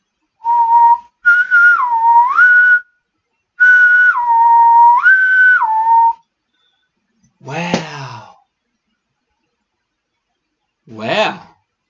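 A person whistles clear sustained tones that glide between two pitches in two long phrases, followed by a couple of short breathy vocal sounds, close and alone.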